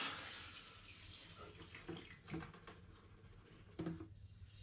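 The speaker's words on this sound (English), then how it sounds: "On top of my grain, I'm going to add 5 litres of spring water." Five litres of spring water are poured onto grain in a pan for mashing an all-grain imperial ginger ale, a soft, continuous splashing pour heard close and faint, with a few light knocks of pan or utensils.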